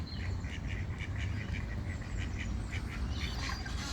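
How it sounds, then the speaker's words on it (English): Mallard ducks at a park pond on a morning outing, quacking in a steady repeated series of calls at moderate distance over a constant outdoor hum. "there's another mallard duck mama with 3 little darlings"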